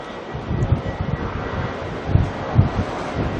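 Strong wind at Auckland Airport roars and buffets against the microphone in continuous low gusty rumbles, close and loud, with no talk.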